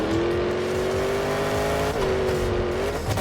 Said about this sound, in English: I just love looking at the newest monster truck from Monster Jam.